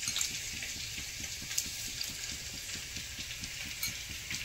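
Two spoons of sugar heat in hot oil to build colour for a Bengali methi or dalcha chicken, making a close, continuous frying hiss with soft rhythmic bubbling pops, alone without talk.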